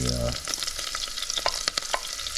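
Thyme, cilantro and pepper flakes hit hot vegetable oil in a pot, bursting into a loud sizzle followed by bright crackles and spatters as they are stirred, with no talking.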